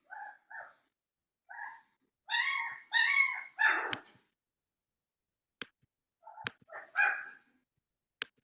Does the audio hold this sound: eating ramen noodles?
no